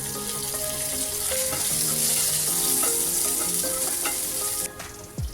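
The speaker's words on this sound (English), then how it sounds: "I'll saute the ginger, garlic, green chili paste for about 30 seconds" Ginger, garlic and green chili paste sautéing in a pan, a loud continuous sizzle with a few clinks and stirring scrapes, cut off abruptly near the end.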